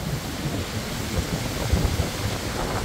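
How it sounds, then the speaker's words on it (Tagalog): Heavy rain pours steadily during a typhoon, a dense, constant roar of downpour with low rumbling surges, loud and continuous throughout with no voices. "Ang lakas-lakas ng ulan guys."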